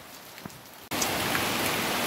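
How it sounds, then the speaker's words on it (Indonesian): Heavy rain at a transmigration house where a staircase is being built. The downpour is quiet at first, then after a brief gap returns as a loud, dense, steady hiss with no talking. "hujannya semakin deras"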